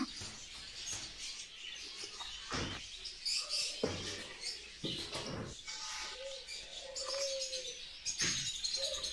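Diamond doves in an aviary give soft coos and short chirps in a scattered sequence, fairly close and quiet, with occasional rustles and wing flaps.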